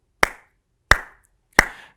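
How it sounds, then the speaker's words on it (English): Three crisp, isolated hand claps, evenly spaced and close to the microphone. They mark a song's beat in a music-theory lesson, with silence between each clap. "Listen to it again while I clap"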